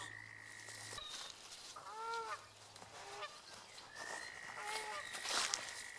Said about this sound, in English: You can hear some noisy geese in the background.